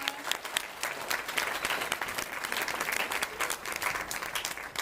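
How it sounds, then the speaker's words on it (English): An audience at a university jazz concert applauds for a graduating band member, a sustained, fairly even wash of clapping heard from a distance with no talk over it. "Everybody, give him a round of applause."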